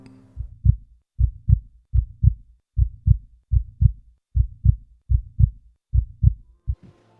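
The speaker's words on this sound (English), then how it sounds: "listen to the sound of my own heartbeat" A human heartbeat thumps in steady paired lub-dub beats, about a dozen low, muffled pulses at an even rhythm, loud and isolated with no talking.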